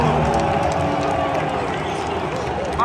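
Large stadium crowd at a Champions League football final applauding in remembrance, a dense steady wash of clapping and murmur filling the space, with voices mixed into the crowd noise.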